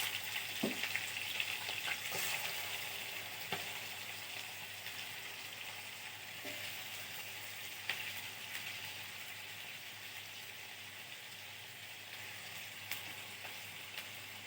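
Chicken pieces frying in a pan, a steady loud sizzle that hisses on throughout with a few faint crackles and no voices.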